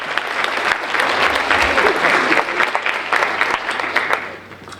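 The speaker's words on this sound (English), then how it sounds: "Round of applause for Sean and Deandra." A crowd at a high school senior awards ceremony claps steadily for several seconds, dense and fairly loud, then the applause thins and fades toward the end.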